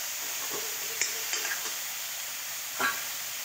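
Tomato chutney with roasted chillies is stirred in a frying pan, a steady hiss of frying with a few soft scrapes and taps from the spoon, close and alone.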